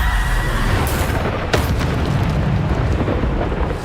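Bombarda blasting spell exploding in the Hogwarts Legacy video game, a loud sustained rumbling burst with a sharp crack partway through, steady and dense throughout without voices.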